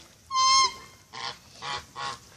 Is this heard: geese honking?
yes